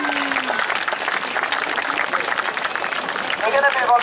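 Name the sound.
audience applause for Bolt the bird of prey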